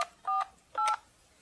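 Keypad tones from an Alcatel-Lucent desk phone on an OXO Connect system dialing an extension, two crisp separate beeps about half a second apart, clear and close in a quiet room.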